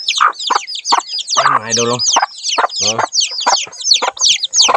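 Chickens cluck repeatedly in short, close, bright bursts, with a few longer throaty calls mixed in, and someone speaks briefly over them.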